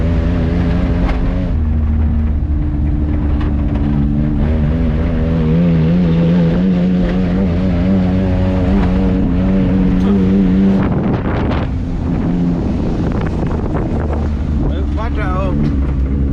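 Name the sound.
3-cylinder Mitsubishi Japanese mini truck exhaust while driving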